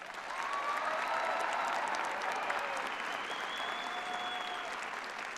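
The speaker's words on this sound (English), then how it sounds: "Let's give them one more round of applause." A graduation ceremony crowd applauds the Irvin High School class of 2023, a dense, steady wall of clapping with a few cheers that holds from start to finish and barely fades.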